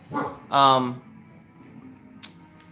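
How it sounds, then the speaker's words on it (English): A dog barks at people in a hallway: two sharp barks close by, the second longer and louder, followed by quiet room tone and a brief high yip or squeak. "you gotta hear the dog because there's people in my hallway talking"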